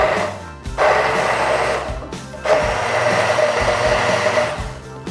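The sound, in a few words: Blackline 8222 800W immersion blender blending fruit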